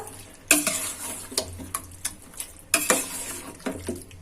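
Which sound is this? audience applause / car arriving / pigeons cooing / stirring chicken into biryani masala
stirring chicken into biryani masala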